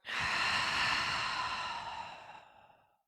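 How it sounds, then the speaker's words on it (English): A single long, audible exhale through the mouth at the start of a yoga class. The breathy rush fades out gradually over about three seconds, close and quiet, with no voice. "Begin our practice with the sound of Om, starting with a cleansing breath in and out."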